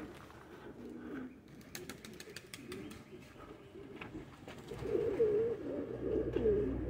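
Pigeons on a rooftop loft as a buchon pigeon is let out among white and dark racing birds, soft cooing and rustling with faint wing movement, growing somewhat louder toward the end.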